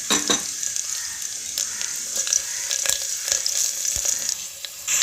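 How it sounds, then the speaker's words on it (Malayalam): Mustard seeds, garlic and curry leaves sizzle in hot oil for a yogurt curry, a bright crackling hiss with scattered sharp pops and spatters throughout, close and fairly loud, with no talk. "നമുക്ക് ഇതിലേക്ക് കാൽ ടീസ്പൂൺ കടുകൊന്ന് ഇട്ട് കൊടുക്കാവേ പിന്നെ ഇതിൻ്റെ കൂടെ നമ്മൾ കുറച്ച് വെളുത്തുള്ളി കറിവേപ്പിലയും കൂടെ ഇട്ട് കൊടുക്കുന്നുണ്ട്"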